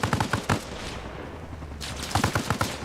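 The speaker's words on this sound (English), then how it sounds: "They're shooting the machine guns as well from the Huey." Machine guns firing from a Huey helicopter in a video game: rapid bursts of gunfire at the start and again near the end, with a quieter rumbling stretch between and no talking.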